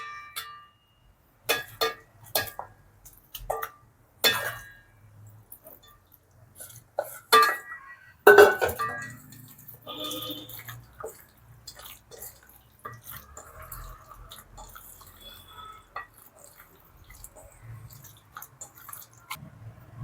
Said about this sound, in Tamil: நல்லா இந்த மாதிரி தண்ணியில் மசாலாவை கலக்கிக்கோங்க